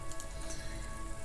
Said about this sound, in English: Your coat shields you from the rain while the city shivers.